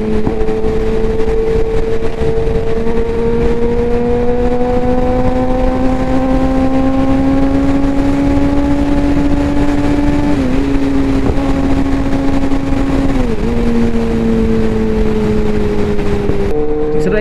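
A Suzuki GSX-R 750 sportbike cruising along in bad weather, its engine holding a steady, loud drone with a couple of brief dips and shifts in pitch, heard up close from the rider's position.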